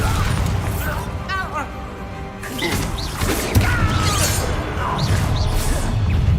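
Magical blasting and exploding spells in Hogwarts Legacy crash and boom in a rapid series of bursts with whooshes and shattering debris, loud and close amid game sound.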